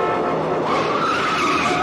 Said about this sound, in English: this is considered to be one of the greatest car chases in film history